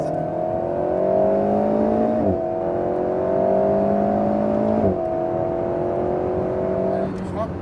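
An Alpine A110 S pulling hard on the Le Mans circuit, its engine note climbing steadily through two upshifts with brief dips at each gear change, heard close from inside the cabin.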